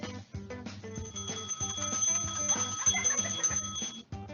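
An office bell is rung over and over in rapid succession, its bright metallic ringing piling into a near-continuous clatter, close and fairly loud, with no one speaking.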